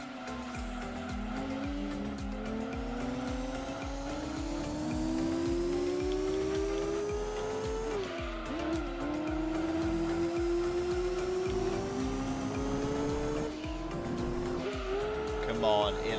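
A Honda NSX race car in the Gran Turismo 2 video game holds a continuous engine whine that climbs with gear changes, with tire squeal through the corners, loud and close throughout.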